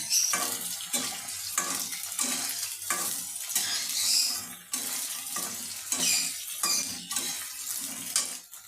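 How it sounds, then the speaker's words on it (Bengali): Onions sizzle in hot oil in a pot while a spoon stirs them in steady repeated strokes, with close scraping and clinking against the pot. The onions are being fried for biryani. "ওই তেলের মধ্যে বন্ধুরা আমি ভাতের পেঁয়াজটা ভেজে নেব"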